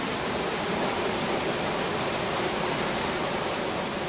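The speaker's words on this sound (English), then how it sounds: "from the tops of the mountain, you can see the water just rushing down under the rocks" Mountain water rushes steadily down over rocks, a dense, constant roar with no breaks, close and fairly loud, alone without voices.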